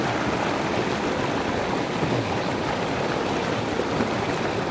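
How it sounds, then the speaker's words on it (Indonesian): A river near a village in Majalengka, Indonesia, flows with a dense, continuous rushing and gurgling that stays loud and close throughout, with no voices. "Tapi nggak tahu ini sungai apa namanya ya."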